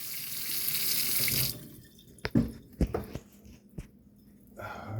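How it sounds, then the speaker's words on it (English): A kitchen sink faucet runs steadily at close range, then shuts off, leaving scattered drips, clunks and handling knocks around the sink during garbage disposal installation work. "Turn off the water."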